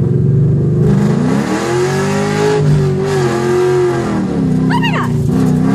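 Ford Mustang race car revving hard, a loud steady engine drone that rises and falls over several seconds, with a brief squeal near the end.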